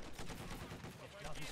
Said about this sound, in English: There's a half track though that's like heavily suppressive firing me constantly.